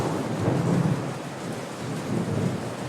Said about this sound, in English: You can shout as much as you like, but it will just keep raining.